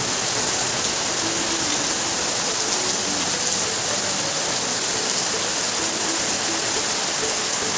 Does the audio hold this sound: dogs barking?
no